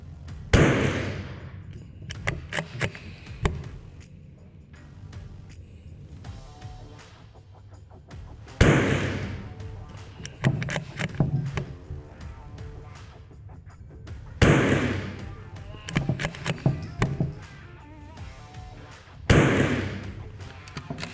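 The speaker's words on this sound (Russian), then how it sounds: "Пять выстрелов сделали." Four loud, sharp carbine rifle shots fired at a target, spaced several seconds apart, each with a short ringing tail, separated by quieter handling noises.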